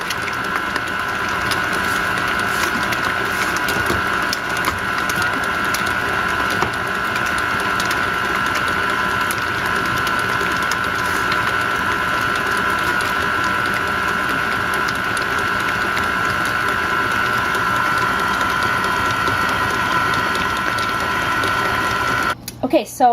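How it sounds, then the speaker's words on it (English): A stand mixer beating pizzelle batter of butter, sugar and eggs at high speed makes a loud, continuous motor whir with a steady whine that holds unchanged for the whole stretch, close up. "Let's go ahead and crank up the speed of our mixer and make sure that everything's incorporated."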